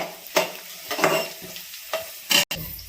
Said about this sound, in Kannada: ಇಲ್ಲಿ ಕೇಸರಿ ಬಾತ್ಗೆ ತುಪ್ಪ ಎಣ್ಣೆನ ಹಾಕಿ ಗೋಡಂಬಿ ದ್ರಾಕ್ಷಿನೂ ಕೂಡ ಹುರ್ಕೋತಾ ಇದ್ದಾರೆ.